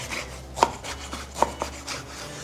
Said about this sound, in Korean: 김치를 먹기 좋은 크기로 썰어주세요.